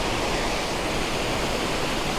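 Lumb Hole waterfall pours steadily in an autumn woodland, a dense, constant broadband rush of falling water, close and uniform with no other sounds.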